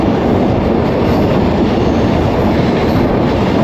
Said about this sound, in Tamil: ட்ரெயின் வந்து மகாராஷ்டிராவோட பார்டரை தாண்டி இப்போ வந்து குஜராத்துக்குள்ளே போயிட்டு இருக்கு.